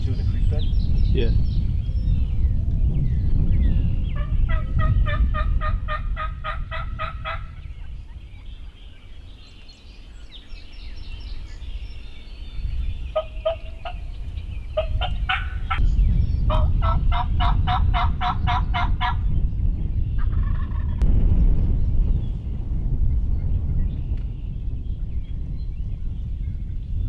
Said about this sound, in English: Making turkeys gobble.